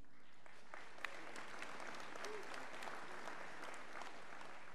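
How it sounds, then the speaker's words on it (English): Applause from a commencement audience, steady clapping filling the hall at moderate volume without a break, heard on its own with no talk over it. "you guys are great at clapping, I'm just saying, that applause is phenomenal"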